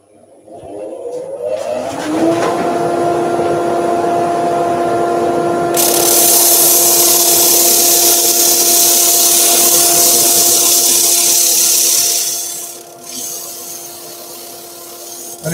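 Sanding disc machine spinning up and grinding a wood workpiece with a dust extractor running, a loud steady motor hum joined by a hissing sanding roar that then fades as the piece is lifted.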